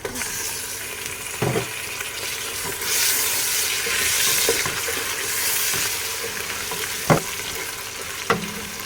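Chicken fries with ginger garlic paste in a hot pan, a constant strong sizzle with stirring scrapes and a few sharp knocks of the spoon against the pan.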